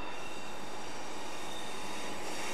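An Acela Express train in Train Simulator 2015 passes close by as a steady, dense roar of wheels and rail noise with a faint high whine, constant and unbroken for a few seconds.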